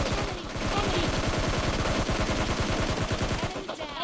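Loud, continuous rapid gunfire in PUBG Mobile Lite, a dense stream of shots close by that fills the whole moment before cutting off near the end.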